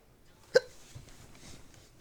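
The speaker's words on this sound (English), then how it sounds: "I got the hiccups like crazy." A single sharp hiccup from a person live-streaming, sudden and close. Faint room noise follows.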